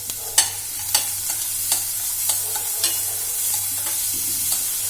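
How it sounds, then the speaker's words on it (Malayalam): Finely chopped onion frying in a pan for a cauliflower dish, with a steady close sizzle broken by sharp scraping clicks of a spatula stirring at regular intervals, no voices. "ഞാൻ ചെറുതായിട്ടാണ് ഉള്ളി അരിഞ്ഞു കൊടുത്തിട്ടുള്ളത് അത് ഇട്ട് കൊടുക്കുന്നുണ്ട് ഇളക്കി കൊടുക്കാം"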